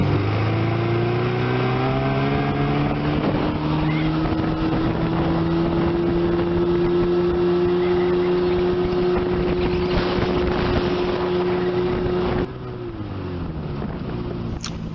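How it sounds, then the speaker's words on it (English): A 1972 Johnson 25 HP short-shaft tiller outboard motor runs steadily on a boat, a loud, close droning engine with wind buffeting the microphone, its pitch dropping slightly as it throttles down near the end. "1972 Johnson short shaft tiller. Idles great, runs great, looks great."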